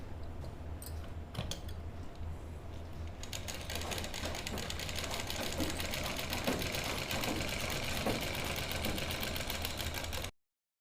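A sewing machine stitches a lined kurti, running in a steady, dense mechanical whir for most of the span after a few brief, separate clicks and bursts at the start, close and continuous.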